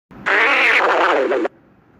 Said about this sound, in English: why did you fart in the car?